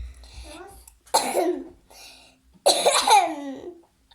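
Two or three harsh, close coughs come in separate bursts with brief quiet between them, and a voice murmurs softly at the start.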